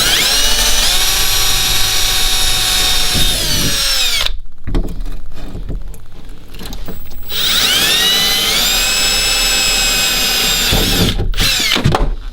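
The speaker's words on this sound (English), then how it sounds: "Okay, so I pre-drilled my first holes." A power drill pre-drills holes for mounting an Anderson connector, two loud sustained whining runs with a short pause between them and a brief burst near the end.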